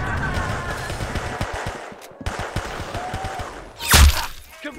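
Gunfire in the Roblox game Arsenal: rapid crackling shots with a steady noisy bed, ending in one loud, sharp blast near the end.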